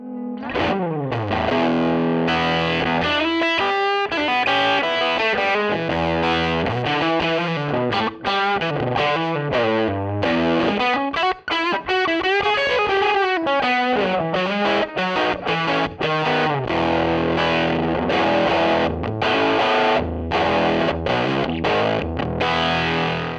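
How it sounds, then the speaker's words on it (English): Distorted electric guitar through a Tubesteader Eggnog pedal on a Tweed Deluxe–style preset, playing a continuous riff with chords and single-note runs, warm overdriven tone with a bit of room reverb, loud and steady throughout. "Let's try like a Tweed Deluxe combo type thing."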